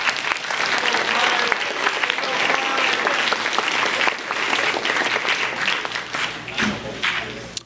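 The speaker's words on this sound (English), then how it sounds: "Let's give them a round of applause" People at a 12 Club induction ceremony give the inductees a round of applause: hearty clapping with a few thumps, filling the room throughout with no pause.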